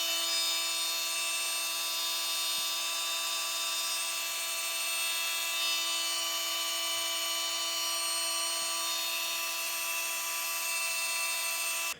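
A cordless oscillating multi tool with no blade fitted runs at maximum speed, giving a loud, steady high-pitched buzzing whine that holds evenly throughout and cuts off abruptly at the end.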